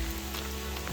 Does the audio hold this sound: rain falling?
yes